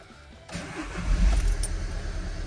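A diesel car engine cranks and catches after its glow plug cycle, then settles into a loud, rumbling idle with strong low-end throb, close to the microphone.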